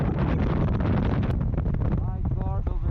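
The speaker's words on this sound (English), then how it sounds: "the wind is blowing the entire snow now." Strong mountain wind roars across the snowy high ground at Gurudongmar Lake in North Sikkim, a loud, continuous, low buffeting rush battering the microphone, with a muffled voice briefly surfacing near the end.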